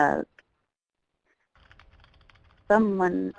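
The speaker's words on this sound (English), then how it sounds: "I thought someone else was typing." Computer keyboard typing heard as a faint scatter of soft clicks for about a second during an online meeting, set between two bursts of voice.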